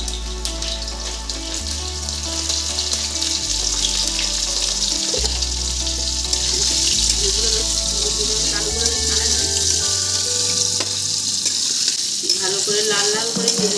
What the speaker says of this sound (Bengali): আলুগুলো বেশ লাল লাল করে ভাজতে হবে।